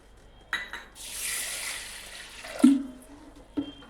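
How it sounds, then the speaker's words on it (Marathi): Moong dal rinsed by hand in water in a pot: a splash and sloshing swirl of water with a couple of clunks of the pot, fairly close and alone. "अशी मी 4 पाण्याने ही डाळ धुवून घेते"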